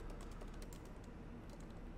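Typing a password on a computer keyboard, a quick run of soft irregular key clicks, faint and close, with no talking.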